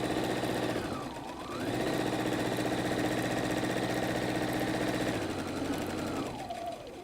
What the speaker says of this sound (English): we're going to sew with the presser foot up against the raw edge of the lining